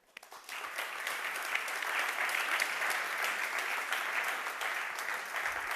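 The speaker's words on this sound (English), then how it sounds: "please a round of applause for them." An audience claps for supporters at a conference welcome, the applause swelling quickly and then holding as a dense, steady ovation throughout.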